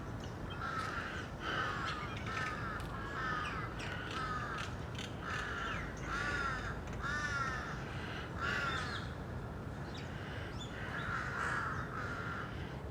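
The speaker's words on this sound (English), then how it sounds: "Hear those birds?" Birds call repeatedly in harsh, cawing bursts, several voices overlapping at a moderate distance over a steady background hum, in a park in Thailand.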